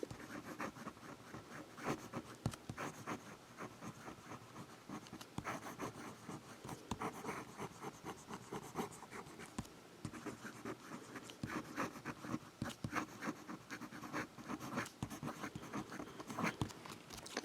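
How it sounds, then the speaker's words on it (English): Fountain pen with a fine nib scratching rapidly across paper, a busy run of close, dry strokes and taps continuing steadily with no voices. "Quick writing."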